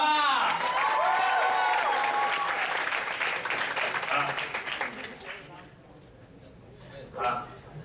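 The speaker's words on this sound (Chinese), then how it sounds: "我们再给他们一个掌声鼓励" A guitar club crowd claps in a dense burst of applause mixed with cheering voices, then the clapping thins out and fades over a few seconds.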